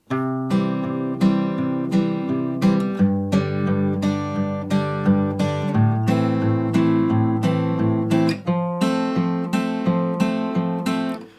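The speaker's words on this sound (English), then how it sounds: "a similar kind of thing with finger picking" Fingerpicked acoustic guitar chords ring out in a steady, flowing pattern of plucked notes and bass thumbs, clear and close, with no voice.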